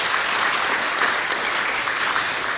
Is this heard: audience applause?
yes